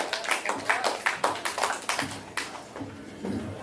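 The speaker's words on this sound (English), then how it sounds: "I want you to clap it up for Royce Emily" A small open-mic crowd at a brew house gallery claps for the next comedian, with scattered, uneven hand claps that start strong and gradually thin out.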